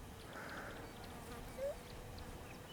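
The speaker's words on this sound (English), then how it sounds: "I can hear a fly buzzing." A fly buzzes faintly and briefly amid quiet background noise outdoors in the mountains of Cyprus, a thin droning hum that comes and goes.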